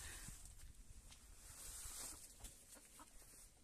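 Chickens clucking faintly on a farm as they crowd toward home, soft scattered clucks over a steady outdoor background with no talking.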